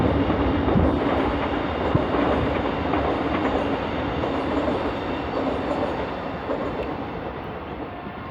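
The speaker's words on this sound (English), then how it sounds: "Wait for the train to go." A train passes nearby in a continuous loud rumble of rolling railcars and clattering wheels that slowly fades, with no voices.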